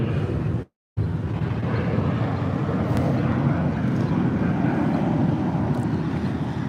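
An American Airlines jet passing over Chicago O'Hare Airport: a broad, steady jet roar sustained throughout, with a brief dropout near the start, outdoors with some wind buffeting.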